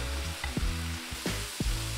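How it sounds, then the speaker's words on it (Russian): Steady frying sizzle of beef and seaweed in a hot pan over high heat, with a few brief scraping stirs breaking through. "Жарим на сильном огне буквально пару минут."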